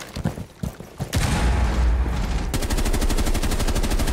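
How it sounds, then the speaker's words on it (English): Shotgun fire in Rainbow Six Siege, a few sharp blasts up front followed by a loud, dense stretch of gunfire and rapid repeated shots, close and punchy. "Shotgun."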